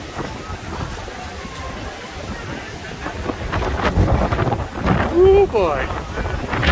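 Strong gusty wind at the Hermosa Beach pier on a very windy day, roaring and buffeting against the microphone and swelling louder toward the end, while a voice briefly speaks.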